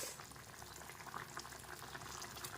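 Eggplant curry boiling in a pot on the stove, a continuous dense bubbling and simmering that stays soft and even throughout, with no voices.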